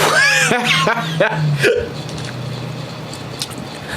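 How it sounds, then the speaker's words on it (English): Hiccups from a person during a livestream, a few sharp voiced jolts spaced through the first two seconds amid laughter and background talk, then fading into quieter room noise. "See how I got hiccups immediately?"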